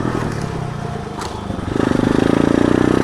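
Repaired dirt bike engine idling at first, then revving up into a louder, rapid pulsing putter that holds steady, close to the microphone.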